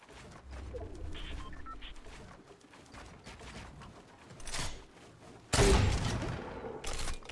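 Gunfire rings out in Fortnite Battle Royale, scattered faint shots and clatter building to a loud, close burst of fire near the end.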